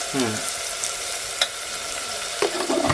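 Steady sizzling of a hot oil tempering in a pan as sugar is added for poha, with a brief scrape and a soft clink partway through; no voices.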